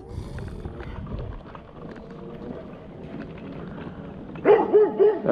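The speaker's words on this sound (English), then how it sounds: "Yep, that's a big old dog." A big dog barks in a few close, deep bursts near the end, following a stretch of quiet outdoor rustling and background murmur.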